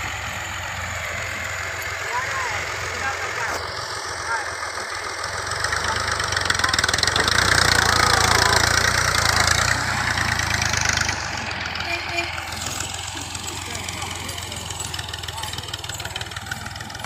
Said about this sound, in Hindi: ये देखो दो ट्रैक्टर आ गए हैं अब